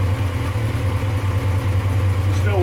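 A cold Yamaha XJR1300 motorcycle engine idles at about 1100 rpm after a carburettor overhaul, a steady low rumble, close and constant, with a slight rhythmic throb and no talking.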